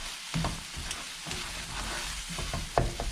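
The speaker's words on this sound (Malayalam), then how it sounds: "നല്ലോണം വഴറ്റിയെടുക്കുക" Coriander masala spice powders stirred and sautéing in a pan on low flame for chicken dum biriyani, with a steady soft sizzle under scraping spoon strokes and occasional sharper clinks.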